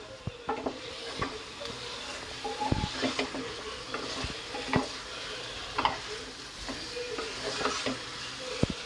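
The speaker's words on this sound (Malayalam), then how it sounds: "ചിക്കൻ ചേർത്ത് ഒരു രണ്ട് മിനിറ്റ് ഹൈ ഫ്ലെയിമിൽ വെച്ച് നല്ലപോലെ ഒന്ന് ഇളക്കി കൊടുക്കണം" Chicken stirred over a high flame for a pressure-cooker biryani: a soft sizzle under repeated scraping and clattering strokes of a spoon against the pan, coming in an uneven rhythm at close range.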